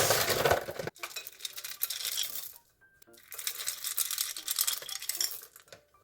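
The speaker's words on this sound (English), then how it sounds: "Just mix these very gently the rest of the way." Chocolate chips are gently folded into vegan banana muffin batter made with oat flour and chopped walnuts, giving soft scraping and stirring sounds in two bursts separated by a short pause.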